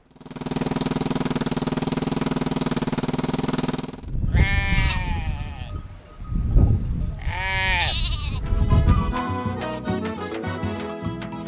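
After a steady engine drone cuts out, goats let out two loud, wavering bleats up close, then a rapid rhythmic rattling begins.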